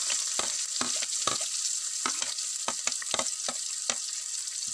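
Onions frying in oil with mustard seeds and curry leaves for a semiya upma, a bright steady sizzle close up with irregular soft thuds of stirring every half second or so, and no one speaking.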